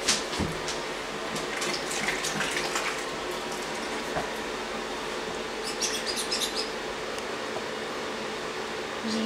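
Light water splashing and trickling in a baby bath pod with little water in it, running steadily in the background with occasional soft bird-like chirps and squeaks.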